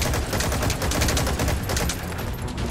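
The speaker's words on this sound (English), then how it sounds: "That's mostly due to us having a machine gun, a Gatling gun more like." A Gatling gun fires continuously in the video game Metal Gear Solid V: The Phantom Pain, a dense, loud, unbroken rattle of rapid shots filling the whole stretch without any voice over it.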